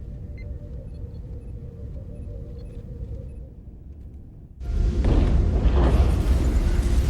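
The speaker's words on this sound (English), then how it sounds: "The storm is getting worse." A storm rumbles in the Star Trek: Resurgence video game: a steady low drone that swells abruptly into a loud, broad roaring surge partway through, with no talking.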